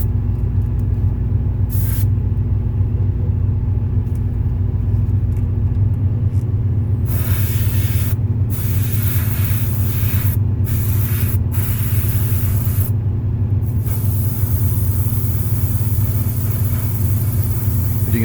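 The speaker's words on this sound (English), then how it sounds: "It's hard to get paint in there with the airbrush." An airbrush spraying paint onto a Wolverine figure gives bursts of bright hissing over a constant low compressor rumble, the spray starting and stopping several times.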